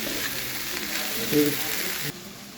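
Broad beans and potatoes sizzle steadily as they are stirred and turned in a frying pan, with a brief scrape of the spoon midway before the sizzle drops slightly.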